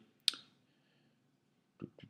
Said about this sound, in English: we're going to click on Visit Site here